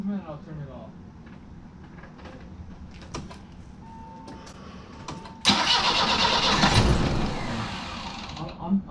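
A BMW E30 engine cranks and catches, a sudden loud burst of starter and engine noise rising midway and running steadily to the end, after quieter moments with voices talking nearby.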